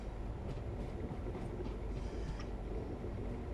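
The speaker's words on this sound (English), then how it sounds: "No, it's a 10-car train." A Class 380 electric train in SCR livery rolls along a platform, its low rumble and faint wheel noise holding at a steady, fairly quiet level throughout.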